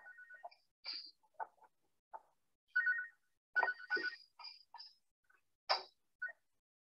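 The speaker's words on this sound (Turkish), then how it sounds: "cep telefonu çaldı" A mobile phone ringtone rings out in a short melodic pattern of bright electronic tones, coming in bursts separated by brief gaps; it is fairly quiet and sounds without any voices.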